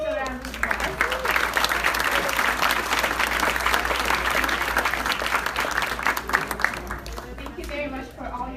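Round of applause for student government executive members at a black tie event, sustained crowd clapping at even strength, with a voice speaking over it at the start and again near the end.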